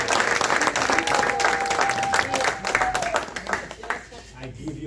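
An audience at a concert-related event applauds together in a dense, sustained burst of clapping that tapers off after about four seconds, with a voice speaking over it.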